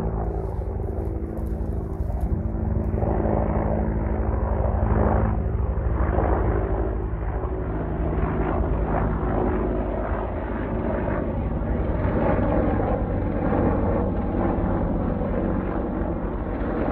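An Apache military helicopter passes overhead, its steady rotor and engine roar loud and continuous throughout, with no voices over it.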